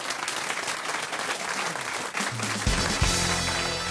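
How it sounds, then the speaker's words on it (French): Studio audience at a French radio comedy panel show applauds a contestant with a thick burst of clapping, and a musical jingle comes in under it toward the end. "On vous applaudit, Fabien."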